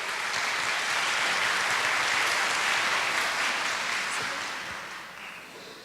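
A conference audience gives sustained applause, a dense, even wash of clapping that holds steady before fading out over the last second or so.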